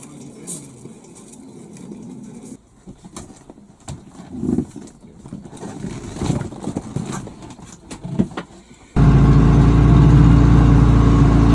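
A newly fitted narrowboat engine starts up and runs steadily, a loud, constant low rumble that sets in abruptly near the end after a stretch of quieter mixed background noise.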